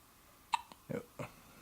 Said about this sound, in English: Except for his hiccups, they're keeping him awake.